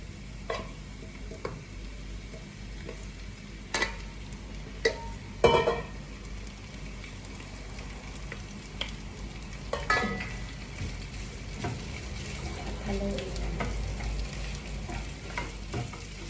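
Fried rice being stirred in a frying pan: a steady low sizzle with repeated clicks and scrapes of a spatula against the pan, some sharper knocks, close by, no talking.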